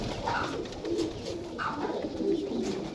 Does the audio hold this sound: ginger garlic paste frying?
no